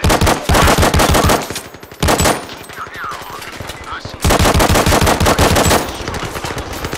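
Rapid video-game gunfire roars in loud, dense bursts, with a sustained volley at the start, a brief lull with faint effects, then another long stretch of fast automatic shots.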